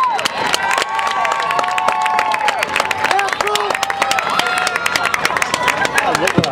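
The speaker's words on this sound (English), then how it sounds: "a big round of applause for the CUA dance team" A stadium crowd at a Catholic University college football halftime show cheers, claps and shouts loudly for the CUA dance team, with whistles and excited voices mixed through the continuous applause.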